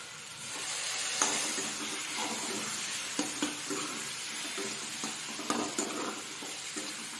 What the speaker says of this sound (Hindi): इसे भी अब इसमें टमाटर में ऐड कर दूंगी और मसाले भी मिला लूंगी मैं